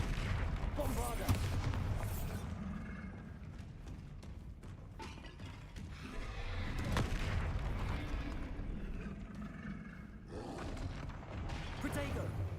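Bombarda blasting spell from Hogwarts Legacy gameplay, deep rumbling explosive booms and roaring blasts layered over a continuous game soundtrack, with shouted voices heard throughout.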